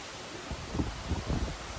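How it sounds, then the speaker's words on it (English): Gusty wind blowing outdoors during a pipe smoke, a broad rushing noise with soft low buffeting gusts that swell and fade, fairly close and alone with no talk. "Boy, we are getting windy here."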